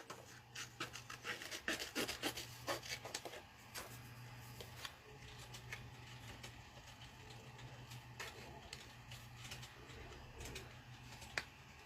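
Scissors snipping through craft paper, a quick run of close, crisp cuts at first that thin out into sparse, quieter snips over a faint steady hum.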